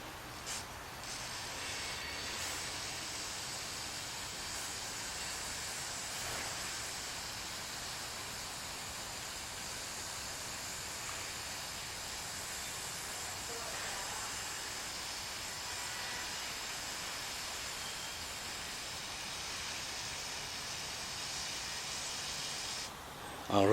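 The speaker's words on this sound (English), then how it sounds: "Got my carburetor cleaner, and what we're going to do is we're going to fill this cylinder up." Carburetor cleaner sprayed steadily into an engine cylinder of a Volkswagen Beetle during head gasket work, a continuous close hiss lasting about twenty seconds with no talk over it.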